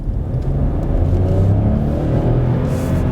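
A Hyundai Bayon with its 120 hp turbo engine pulls forward under steady acceleration. A continuous, close engine drone rises gently in pitch for about three seconds, with road and tyre noise mixed in and no one speaking.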